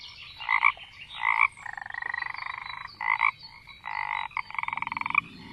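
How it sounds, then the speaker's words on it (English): A frog croaks in repeated bursts, each a short throaty trill, some pulsing rapidly, fairly close and clear against a faint low background. "F for frog."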